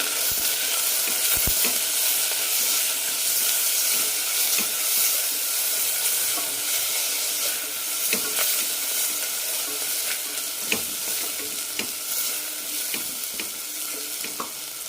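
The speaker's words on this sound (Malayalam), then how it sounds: "ഇനി ഇതിലേക്ക് തക്കാളി ഇടാം. കൂടെ തന്നെ 1/2 ടീസ്പൂൺ മഞ്ഞൾപ്പൊടി നന്നായി വഴറ്റാം" Tomatoes and turmeric powder sauté with onions in a pan for a drumstick kurma, giving a loud, continuous close sizzle broken by regular scraping taps of a spoon stirring against the pan.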